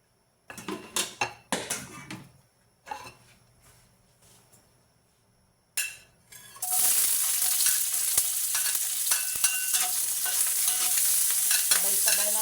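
Black pepper beef is stir-fried in a pan: a few sharp utensil scrapes and clanks, then a loud, steady sizzle as the food hits the hot pan, with occasional stirring knocks.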